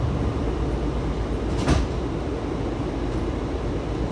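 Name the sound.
Washington Metro Red Line Kawasaki railcar train, doors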